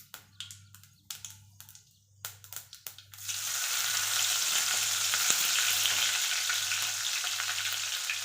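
Curry leaves drop into hot oil with mustard seeds: a few sharp crackles and pops give way to a sudden, steady loud sizzle, with a faint low hum underneath.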